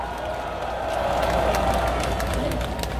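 Broad crowd applause and cheering at an outdoor political rally in Gwanghwamun, Seoul, a dense continuous roar of clapping with rumbling low background noise, steady and fairly loud.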